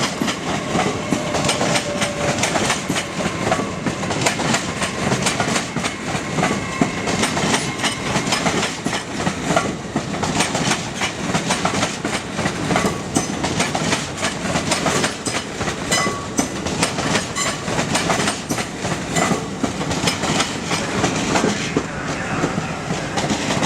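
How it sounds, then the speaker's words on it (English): An LNER Azuma class 800 train bound for London King's Cross approaching the platform at York station, giving a dense continuous rumble and clatter of wheels that stays loud and close throughout. "approaching now is going to be an LNER Azuma 2 London Key's Cross"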